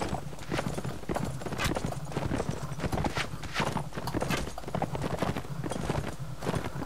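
Horse hooves pound at a gallop across a battlefield in the Mount&Blade: Warband game with a Roman Invasion mod, a dense, steady clip-clop rhythm close by and loud throughout, with occasional whinnies.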